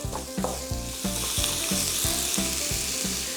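Carrots sauté loudly in a hot pan, a dense constant sizzle overlaid with a regular rhythm of stirring strokes about every few tenths of a second, close and prominent with no talking.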